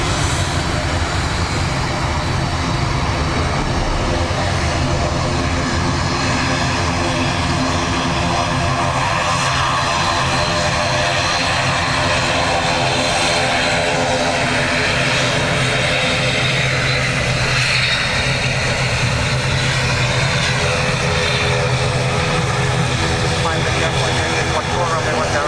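ATR turboprop aircraft at a windy, wet Dublin Airport, a loud continuous propeller and engine drone with a tonal hum, sustained throughout and close, with some talk mixed in.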